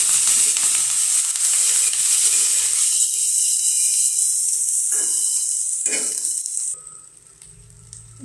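Ash gourd and coconut bhaji fry in oil in a wok, making a loud, steady, close hiss with a couple of stirring scrapes before the sizzle drops to a quieter level.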